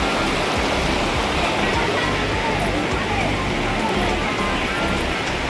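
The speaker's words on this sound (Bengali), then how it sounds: "দেখো কত ঝর্ণার জল" Water from a waterfall at a temple with Shiva lingams pours steadily, a loud, continuous broadband rush that fills the whole clip, with no other sound standing out.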